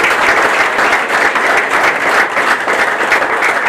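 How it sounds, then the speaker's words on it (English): A luncheon crowd at a baseball finalist event gives a loud, sustained round of applause for two Hall of Fame inductees, many hands clapping evenly throughout without speech. "So just a round of applause for those two guys."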